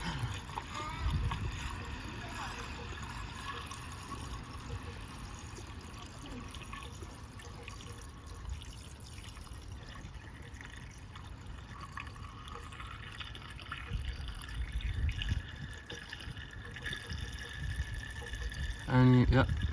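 Water is poured into the cooling system of an Audi RS5, a continuous gurgling fill heard close for most of the stretch, with people talking at times and a sharp clatter near the end.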